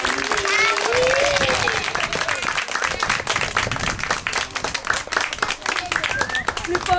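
Audience applause during a charity visit to an orphanage, a sustained crowd of many hands clapping steadily with voices and shouts mixed in, loud and close.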